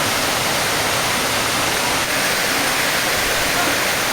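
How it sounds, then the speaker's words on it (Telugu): Rampa waterfall in Andhra Pradesh, which flows all year, pours down in a steady, unbroken roar of falling water, close and even in level throughout. "జలపాతం నుంచి సంవత్సరం అంతా నీరు పడుతూనే ఉంటుంది"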